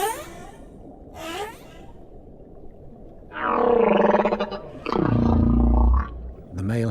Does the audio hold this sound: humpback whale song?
yes